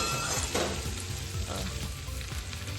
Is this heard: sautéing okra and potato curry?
yes